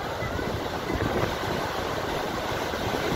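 Takakkaw Falls in Yoho National Park, British Columbia, sends up a constant broad roar of falling water, steady and full, with some wind buffeting mixed in.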